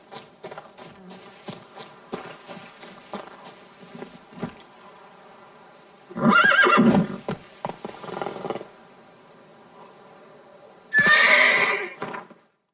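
Roach, a horse in The Witcher 3: Blood and Wine, gives two loud, strained neighs, one in the middle and one near the end, between quieter snorts, hoof clops and light rustling, with no talking.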